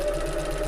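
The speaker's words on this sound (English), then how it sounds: "I'm sewing up the centre line" A sewing machine stitching a centre line runs at a steady, even hum with a quick rhythmic pulse, close and continuous for a brief moment, no talk.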